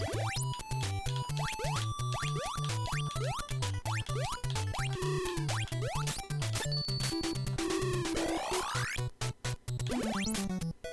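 Busy chiptune video game music from a Konami game, with a bouncing bass line under rapid bleeping melodies and sweeping pitch slides. It plays loud and continuous with no talking.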